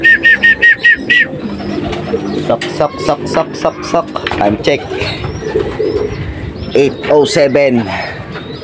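Racing pigeons coo repeatedly at a pigeon race, their soft throaty calls mixed with chirps and rustling while someone talks nearby and an engine hums faintly.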